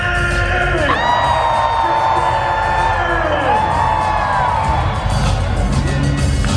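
A large audience at a Will Smith book tour event screams, whoops and cheers loudly and continuously, a dense roar of many voices with shouted tones rising and falling throughout.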